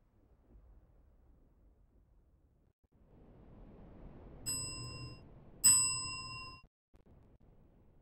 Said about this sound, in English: You boys like the bell?